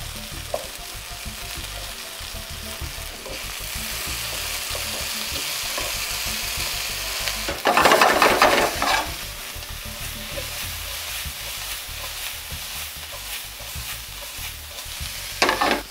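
Garlic frying in a pan gives a steady, dense sizzle that runs for the whole stretch, briefly swelling louder in the middle, with no voices.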